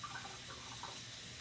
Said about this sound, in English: we need to wash these up real good, okay? So use cold water